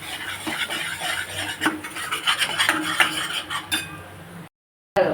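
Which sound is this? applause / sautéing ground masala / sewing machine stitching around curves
sautéing ground masala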